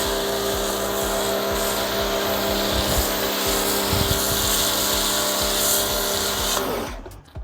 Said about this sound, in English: I'm going to show you just how this sprays the foam.